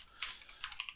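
A password is typed on a computer keyboard: a quick run of about eight light, crisp key clicks in uneven rhythm, close and quiet.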